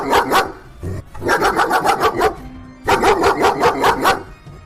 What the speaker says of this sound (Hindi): तभी उनके सामने एक कुत्ता आ जाता है और भौंकने लगता है।